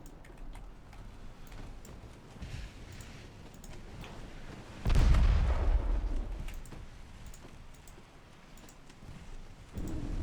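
Naval gunfire in the warship battle game Ultimate Admiral Dreadnoughts: a heavy, booming blast strikes mid-clip and rumbles away, with another loud report at the end over a steady low battle rumble, no talk.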